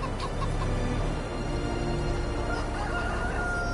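Chickens in Farming Simulator 22 cluck and call in a steady farmyard murmur, with a rooster's drawn-out crow rising near the end over a constant low ambient hum.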